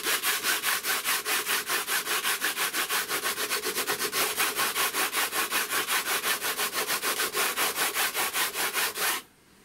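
The coarse side of a Perma-Grit abrasive tool rubs back and forth along the edge of FR4 G10 sheet laminate, a loud, steady, rhythmic rasping of quick strokes close up that stops abruptly at the end.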